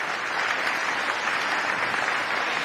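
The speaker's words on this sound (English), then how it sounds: "Let's give that another round of applause." A crowd at a groundbreaking ceremony for a new STEAM school applauds, a dense, even wash of clapping that holds steady throughout with no talking.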